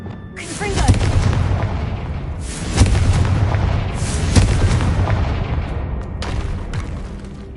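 Repeated booming fire-spell blasts from the Confringo spell in Hogwarts Legacy, several heavy explosive bursts a few seconds apart over a rumbling game soundscape.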